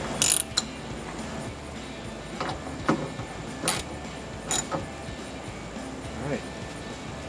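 A ratchet working a T50 security bolt on a Jeep Wrangler TJ roll bar, giving a few sharp clicks and short metallic bursts spaced irregularly over a quiet background.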